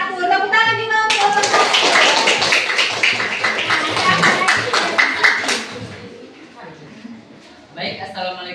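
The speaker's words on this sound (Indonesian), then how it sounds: "Tepuk tangan juga untuk" Classroom applause for group 1 during a school lesson, a loud burst of many students clapping together for several seconds before it fades out, with children's and a teacher's voices talking before and after.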